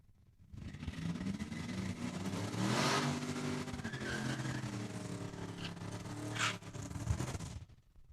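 Drag cars, including a Demon and a Capri, launching and roaring down the strip at Saskatchewan International Raceway during a heads-up racing event, with sustained loud engine noise and tire squeal close by.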